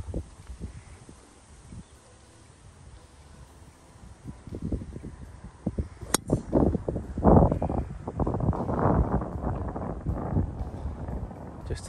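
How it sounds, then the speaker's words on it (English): Strong wind buffets the microphone on a golf course, with irregular rumbling gusts that grow louder and more constant in the second half, and a brief sharp crack partway through. "Very windy, so apologies for the poor sound."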